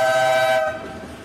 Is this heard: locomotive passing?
yes